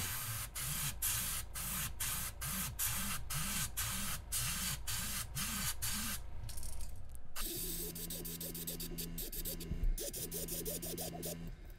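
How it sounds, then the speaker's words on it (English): Spray paint hisses continuously from a can through a stencil onto a fishing lure, with rhythmic clicking and a mechanical whir in the background, the hiss shifting tone partway through. "there's going to be really, really light amount of spraying before we take the stencil pattern back off"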